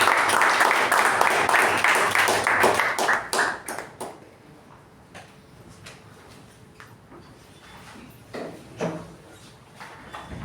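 A Toastmasters club meeting audience gives a round of applause to welcome the club president, brisk clapping that fades after a few seconds into scattered isolated claps and quiet room noise.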